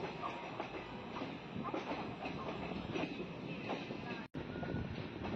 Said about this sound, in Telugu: విజయవాడ నుంచి మన ట్రైన్ బయలుదేరింది.